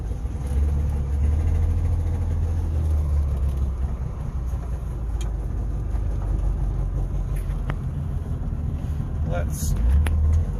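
Two-stroke engine idling rough on one cylinder, a steady low rumble close by that runs without a break for ten seconds, with faint clicks and a brief rattle near the end.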